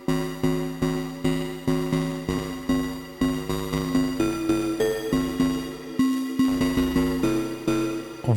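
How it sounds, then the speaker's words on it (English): Tela synthesizer playing a repeating chord pattern with fast LFO amplitude modulation, giving a steady pulsing swell on each note, loud and alone with no voices. "And what you hear now is amplitude modulation"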